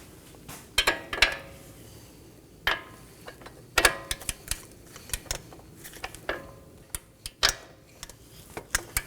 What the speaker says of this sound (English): And torque these down to 103 foot-pounds.